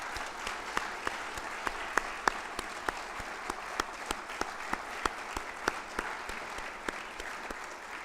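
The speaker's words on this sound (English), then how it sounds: "one more round of applause, if you would, please, for all of our outstanding nominees and winners this evening" Audience at a heritage awards ceremony in Northern Ireland applauding, a steady, moderately distant patter of many hands clapping continuously, with no talk.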